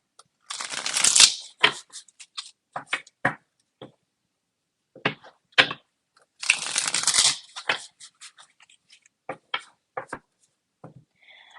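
A deck of tarot cards is shuffled in two long riffling bursts separated by scattered softer taps and flicks of cards being handled and laid down, close and crisp in a quiet room.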